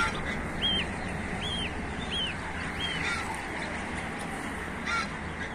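Goslings and geese call out with a few short, thin honks spaced about a second apart, fairly faint over a steady outdoor hiss, one more call coming near the end.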